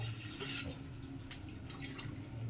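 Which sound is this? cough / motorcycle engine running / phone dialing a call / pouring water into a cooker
pouring water into a cooker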